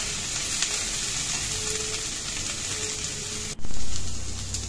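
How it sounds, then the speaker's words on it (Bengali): Vegetables fry in a pan over a gas flame for panchratna dal, giving a steady close sizzle that jumps to a louder, fuller hiss near the end. "সবজিগুলো আরেকটু ভাজতে হবে ভালো করে।"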